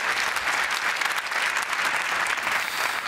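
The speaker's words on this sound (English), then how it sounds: "Big round of applause, please," Steady audience applause fills the hall at the Ford Focus RS presentation in Cologne, greeting Ford executive Raj Nair; a continuous, moderately loud clapping texture with no pauses.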